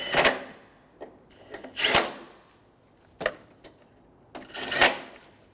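A hand tool clicks and ratchets in short separate bursts while bolts are snugged down during coolant temperature sensor work on a 2008-2015 Scion xB 2.4L four-cylinder, with pauses between strokes.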